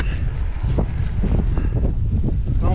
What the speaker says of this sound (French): J'ai le vent dans la gueule, ça fait plaisir ça, toujours à vélo hein.